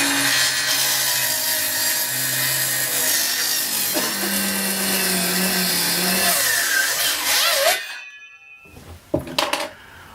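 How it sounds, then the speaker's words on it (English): A Parkside cordless circular saw rips through 22mm MDF in one long, loud, continuous cut lasting about eight seconds, then winds down, followed by a few faint knocks. "That's the Parkside cordless rotary saw from Lidl's"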